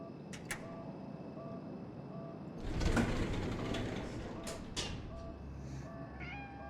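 A cat meows a few times at moderate distance amid quiet ambient noise and shuffling, with a brief rise in background rumble partway through.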